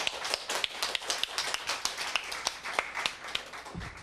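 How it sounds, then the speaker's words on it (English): Audience applause at a literary reading and panel event, a room full of people clapping steadily for about four seconds with dense, even claps that fade out near the end. "Can we give another big round of applause for Divya?"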